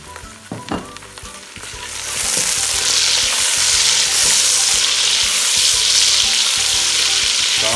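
Chicken pieces go into a pan of golden-brown fried onions for a Kashmiri-style dish, starting with a few clatters and stirs before a steady, loud sizzle and frying hiss takes over.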